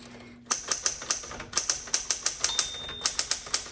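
Rapid keystrokes on a 1973 Smith Corona Sterling manual typewriter clack in an even rhythm, close and crisp, with a small bell ringing partway through.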